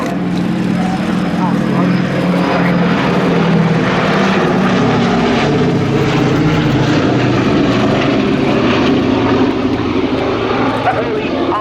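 A Boeing B-17 Fortress propeller bomber at an air show drones loudly and steadily overhead, a continuous throbbing engine rumble that runs beneath a commentator's voice throughout.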